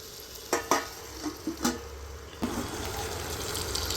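Mutton being stirred in a steel pot for mango mutton curry, a few scraping stirs and clanks near the start giving way to a steady soft sizzle and steam hiss, with no talk.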